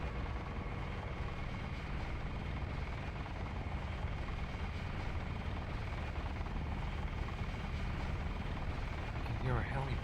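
A helicopter hovers near a helipad in the video game Deus Ex, its rotor and engine drone steady and loud for the whole stretch, with no pauses in the dense throbbing wash.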